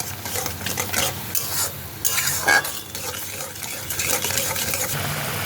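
Wood apple chutney with sugar stirred in a pan, loud close scraping strokes in quick irregular rhythm over a bubbling, sizzling simmer, with no voices.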